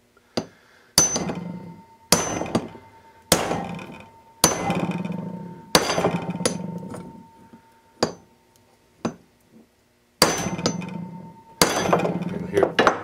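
Metal hammer strikes driving a new bearing race into a utility trailer wheel hub, close and sharp with a bright clanging ring, landing in uneven single and double blows separated by short pauses.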